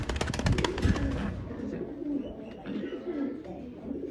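Danish pigeons, a thick-beaked pair, coo softly in a loft, low rolling coos under a busier flutter of sound at the start, with a brief murmur of voice nearby.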